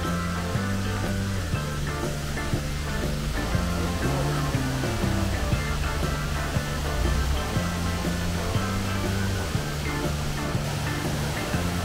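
Horsetail Falls, a waterfall in Oregon, gives a loud, steady rush of falling water that fills the whole clip, with a low repeating tonal pattern running underneath it and no voices.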